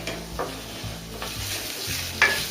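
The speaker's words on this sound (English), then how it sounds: "Stir and cook until the tomatoes are mushy and the onions are cooked." Tomatoes, onions and cashew nuts cook in a pan for a restaurant-style mixed vegetable curry, with a steady sizzle broken by several spoon stirs and a sharp clink near the end, no speech.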